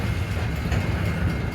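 A loaded coal train rolls past in light snow at Mount Hope, West Virginia, its cars heaped with coal. A steady, heavy low rumble continues without a break throughout.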